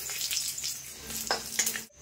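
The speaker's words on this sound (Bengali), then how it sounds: "ফোড়নে দিয়ে দেবো তেজপাতা, শুকনো লঙ্কা আর কালো জিরা।" Bay leaf, dry red chilli and black cumin sizzle steadily in hot oil for a tempering, a dense close crackle with faint stirring clinks and no talk.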